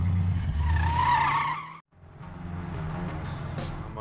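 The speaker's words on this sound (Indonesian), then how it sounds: "ia bertabrakan dengan mobil lain yang berhenti di tengah jalan" A car skids with screeching tires on a road where a chemical spill forced a detour, then a sharp cut and rumbling crash-like noise as it strikes another car stopped mid-road, loud and close with no speech.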